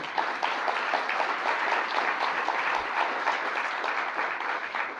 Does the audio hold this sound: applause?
yes